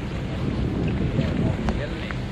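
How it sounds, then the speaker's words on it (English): Wind buffets the microphone on an island near Stockholm, a loud continuous rumbling rush with gusty swells and no pauses. "It is windy on this island."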